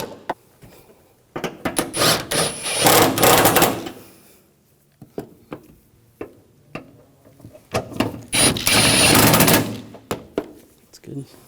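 Bolts being tightened by hand tool on the AC compressor hose of a 2006-2010 Hummer H3 3.7L, with bursts of ratcheting rasp and scattered metallic clicks and taps close by.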